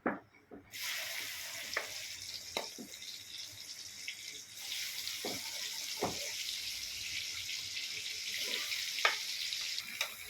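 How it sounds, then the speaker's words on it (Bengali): Cut guava pieces fry in hot oil for a pickle, making a soft, steady sizzle that swells after they go in, with occasional utensil knocks and taps against the pan, heard close but fairly quiet. "এবার আমি এই কেটে রাখা পেয়ারাগুলো এই তেলে দিয়ে দেবো"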